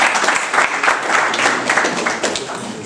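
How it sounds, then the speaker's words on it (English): Applause from an audience at a Nigerian students' association election event in Ternopil, Ukraine: a dense, sustained wash of many hands clapping, loud and close, lasting the whole moment with some voices mixed in. "Please, round of applause for them again."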